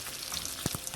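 Bacon fries in its own rendered fat with no oil added, giving a steady close sizzle over the whole second, broken by a couple of soft pops or stirring knocks near the end.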